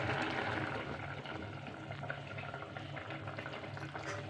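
Okra pulusu, a tangy stew, simmers gently in a pot on a low stove, giving a faint, steady bubbling hiss with soft irregular pops.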